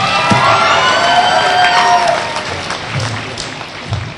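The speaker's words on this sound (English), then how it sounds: "please give her a round of applause" Audience at a high school graduation ceremony breaking into applause with cheers and whoops, loud at first and then thinning to scattered clapping and shouts.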